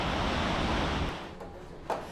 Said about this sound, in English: I enjoyed a nice quiet night with the sound of the crashing waves in the background